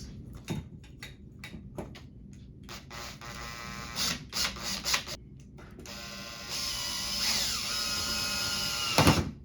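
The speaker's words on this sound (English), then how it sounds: "run it up through the mount and screw it into the box." A power driver screwing a ceiling fan mount into an electrical box during an LED ceiling fan install, with several short whirring bursts followed by a longer steady drive, close and clear with no speech.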